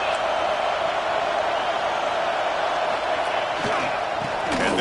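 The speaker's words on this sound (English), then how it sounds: "Listen to the crowd energy here in the early going." A stadium crowd roars steadily in a college football video game matchup against UCLA, a dense, loud, continuous wall of cheering with occasional shouts and thumps rising through it.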